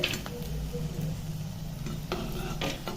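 Eggplant slices frying crisp in hot oil, a low steady sizzle close by with a few spatula scrapes and clinks against the pan over three seconds.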